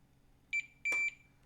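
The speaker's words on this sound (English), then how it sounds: "I've got meter set up to beep." Two short electronic beeps from a multimeter on continuity test, the second held longer, clear and close in an otherwise quiet room.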